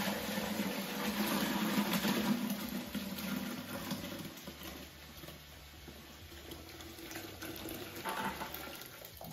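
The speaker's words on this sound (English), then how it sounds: "do the old-fashioned method of pouring it" Redcurrant juice for homemade wine pours steadily from a container, a continuous close liquid splashing and trickling that eases slightly midway before continuing.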